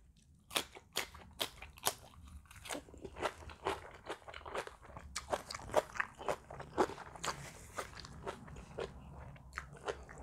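Crunchy Thai papaya salad being eaten up close: a steady run of sharp, bright bites and crunches with chewing between them, no talking, over quiet background.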